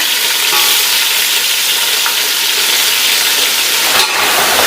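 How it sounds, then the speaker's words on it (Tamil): Loud, steady sizzling and hissing of country chicken pieces frying in hot oil, a dense crackling wash close up, with no talking. "நாட்டுக்கோழியை நல்லா எண்ணெயில் வதக்கலாம்"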